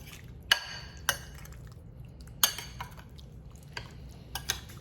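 A spoon clinks against a dish while seasoning is mixed into a keto chicken and spinach casserole, with several sharp scattered taps over a quiet background.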